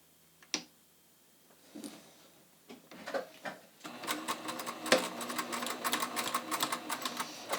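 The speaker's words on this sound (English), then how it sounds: "I'm going to just start stitching, and I've got my metallic thread all ready to go with my metallic needle." A sewing machine stitches beaded lace with metallic thread and a metallic needle. A few scattered clicks come first, then a steady, close, rapid mechanical whir.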